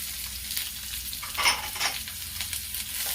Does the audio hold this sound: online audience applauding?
no